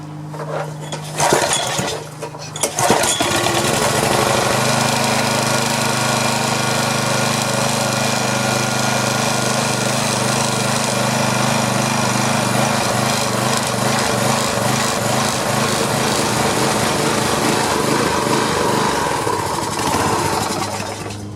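A DR brush trimmer with a badly worn carburetor starts after a few sharp knocks, then runs loud and close with a rough, uneven engine drone that keeps going to the end.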